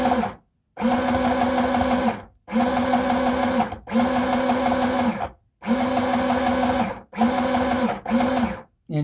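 A sewing machine stitches a red cotton skirt on a table in short bursts, with six runs of steady close whirring separated by brief pauses.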